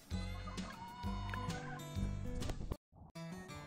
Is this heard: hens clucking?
yes